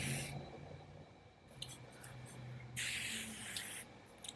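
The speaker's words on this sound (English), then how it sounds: "end with a spray from the spray and just lock everything in" Setting spray misted onto a face after makeup: a few short pressurized pumps, with a brief burst at the start, a couple of quick spritzes midway and a longer, louder hiss near the end, close up with no talking.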